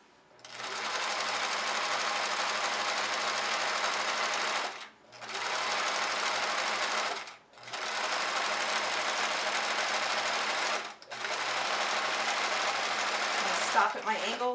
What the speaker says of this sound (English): Alright, I'm just going to sew up the side.